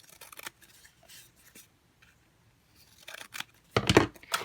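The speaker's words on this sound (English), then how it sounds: "I'm going to trim it down just a little bit." Scissors trim a strip of paper for a box made with an envelope punch board, soft close cuts and crinkling, louder near the end, no talk.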